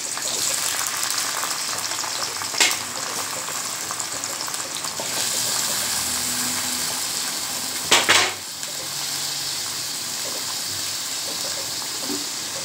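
Onions, ginger and tomatoes sauté in a kadai with a steady hissing sizzle, broken by two sharp scraping bursts of stirring against the pan.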